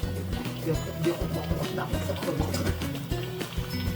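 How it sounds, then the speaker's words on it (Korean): A pot of Korean stew (jjigae) being reheated bubbles at a steady, close simmer, with soft repeated popping and gurgling under faint kitchen clatter. "보글보글 잘 끓는다"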